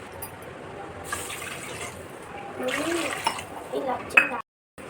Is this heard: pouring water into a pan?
yes